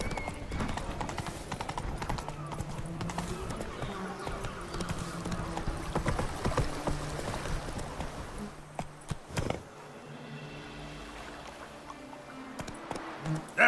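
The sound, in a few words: horse hooves galloping, from the video game The Witcher 3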